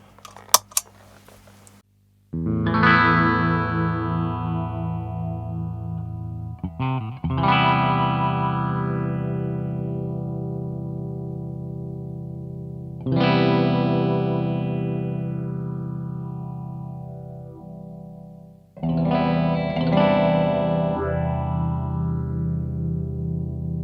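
Electro Harmonix Bad Stone phaser pedal in manual mode on a distorted electric guitar, four sustained strummed chords ringing out one after another with a fixed, swirling phased tone and no talking.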